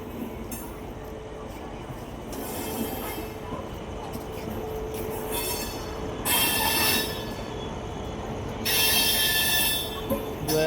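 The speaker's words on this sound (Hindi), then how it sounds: "ये जा रही है, क्या नाम, किसान ट्रेन आपके सामने निकल रही है" The Kisan train rolls past at Ludhiana station, its wheels squealing and rumbling steadily, with bursts of sharper metallic screech rising twice near the end.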